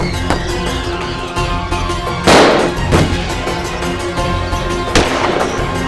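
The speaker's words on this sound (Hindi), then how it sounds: "गोली चल रही है।" Sharp gunshot cracks ring out at irregular intervals in a crime drama scene, with a couple of louder booming reports over a constant background hum.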